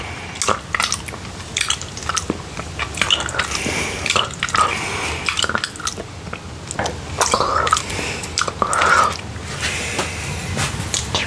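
Wet, sticky licking and smacking at a bowl of honey, close and intimate, with repeated squelchy tongue strokes and small clicks in an uneven rhythm.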